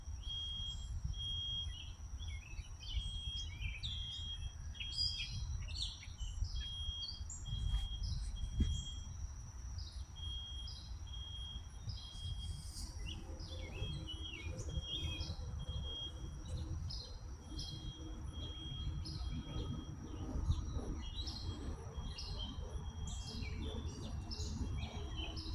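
Birds chirp and tweet steadily in short repeated calls outdoors near water, over a continuous background rumble and a faint insect drone.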